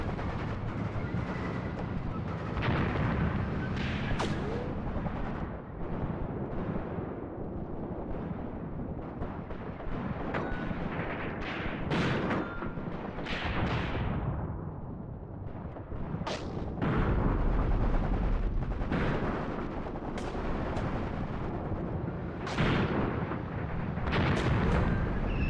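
German mortar rounds pound a small half-track in the Graviteam Tactics: Mius Front war game, with heavy booms and blasts landing one after another over a constant loud rumble of battle.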